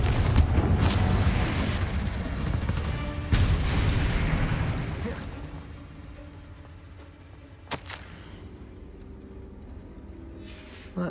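Confringo explosive spells going off in the video game Hogwarts Legacy: several heavy booming blasts, each followed by a rumbling decay, then a quieter stretch with a sharp crack near the end.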